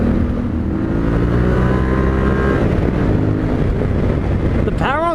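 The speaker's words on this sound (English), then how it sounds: "4th gear, I was pinned full wide open as I came up over that crest" Yamaha Tenere 700 motorcycle ridden at full throttle in fourth gear, a loud steady engine drone with strong wind buffeting the microphone throughout and a brief rising whine near the end.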